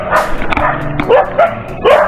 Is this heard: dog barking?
yes